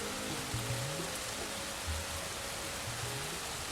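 Rainy-season rain in Thailand falls steadily in a dense, even hiss, with faint low tonal hums from traffic or an engine underneath and no voices.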